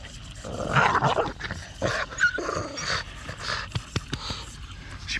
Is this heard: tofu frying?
no